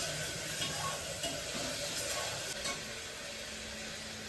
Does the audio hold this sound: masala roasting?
yes